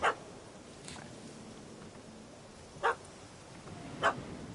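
A puppy barking in the Witcher 3: Hearts of Stone video game, three short sharp barks spaced apart over a steady low background hum.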